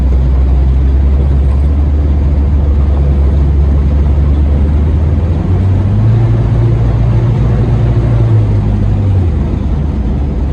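A Ford Ranger truck engine drones loudly and continuously from close by, with a low rumble that rises in pitch midway as it shifts through the gears.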